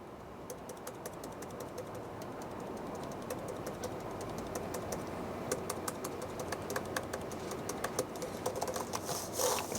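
Fingers type on an Apple Magic Keyboard, a fast, close run of light clicky keystrokes that grows busier toward the end, with no voices.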